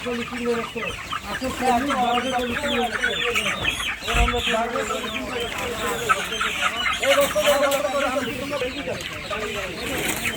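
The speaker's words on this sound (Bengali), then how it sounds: "এই ঘরে আর অল্প কিছু আছে মুরগি" Colored bird chickens crowded in a poultry shed cluck continuously, a dense chorus of many hens close by, with some human voices mixed in.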